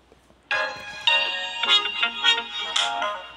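A cellphone ringtone plays a bright, melodic tune of chiming notes, starting abruptly after a brief quiet moment and continuing clearly and fairly close throughout, with no talking.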